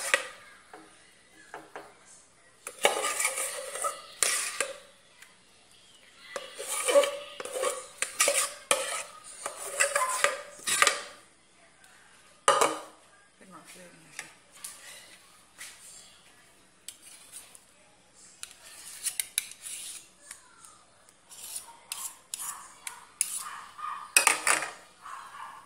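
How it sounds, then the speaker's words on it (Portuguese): Cheese is grated over a chicken escondidinho casserole, with uneven bursts of rasping and scraping from a metal grater alongside light clinks, close and moderately loud with quieter gaps between strokes. "Vou estar ralando esse queijo."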